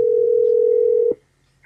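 A steady telephone dial tone, loud and close, holds for about a second before cutting off abruptly as a prank phone call is placed.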